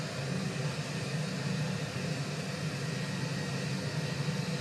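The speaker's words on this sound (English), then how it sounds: "So this is causing us to throttle up." Airliner jet engines in a flight simulator on a Dulles to Houston flight, throttling up as a steady, dense broadband roar that stays even and continuous throughout.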